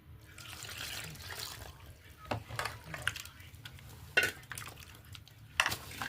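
A batter of rice flour, wheat flour and milk being stirred in a bowl, with wet sloshing and scraping under a low kitchen hum, broken by a few sharp clinks of a spoon against the vessel.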